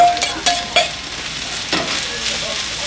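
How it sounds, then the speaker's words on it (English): Onions and peppers frying in grapeseed oil over high heat on a grill, a steady sizzle with several sharp stirring scrapes and clacks up close, fairly loud, no speech. "Onions and peppers is where I'm going to start"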